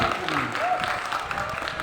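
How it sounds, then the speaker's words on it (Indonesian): Clapping from a class of seventh-grade students at a karawitan training session, a moderately loud patter of hands with a voice briefly audible over it. "Tepuk tangan dong."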